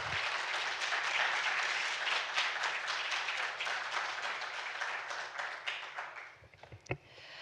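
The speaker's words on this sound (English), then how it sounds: "I'd like to just take this moment to give a big round of applause for the caregivers." A conference audience at a gut health event gives steady applause for caregivers, a dense wash of clapping that gradually thins out, leaving a few scattered claps and a single louder knock near the end.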